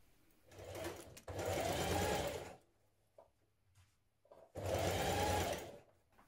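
A sewing machine stitching a sleeve seam on a dress, running in two close bursts, then pausing with faint clicks before a third burst, close and clear with no talk.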